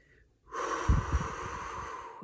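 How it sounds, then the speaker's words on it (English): A person draws one big, deep diaphragmatic breath, a steady airy inhale and exhale lasting about two seconds, close and fairly quiet, after a brief silence. "if you take a big diaphragmatic breath and you go,"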